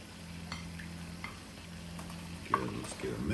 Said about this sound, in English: You kind of want to start breaking up your hamburger.